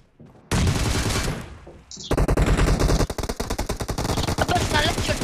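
Rapid automatic gunfire from the BGMI battle game, loud bursts of dense shots after a short lead-in, with a brief pause before continuing volleys and a voice talking faintly underneath.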